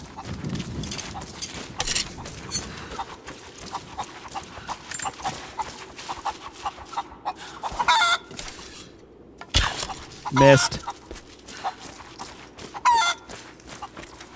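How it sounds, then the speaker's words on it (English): Chickens cluck in the game Tomb Raider, several short calls scattered over a busy layer of game sounds with hooves and scattered bursts. "Hitting a chicken with a fire arrow as it's falling is actually difficult."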